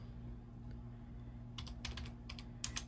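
Quick clicking keystrokes on a computer keyboard, a few soft taps followed by a faster burst of crisp key presses over a low electrical hum.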